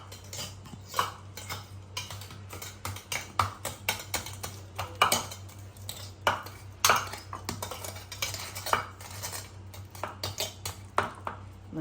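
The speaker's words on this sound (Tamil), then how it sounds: "நல்லா மசிச்சு விட்டுருவோம்." Ripe fruit, peeled and soft, mashed in a bowl with a spoon for sweet kuzhi paniyaram batter: a steady run of close, light clinks and scrapes of metal against the bowl, without talk.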